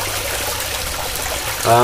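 Small stream flowing through a bird aviary, a close, steady trickle and burble of running water, with a brief voice cutting in at the very end.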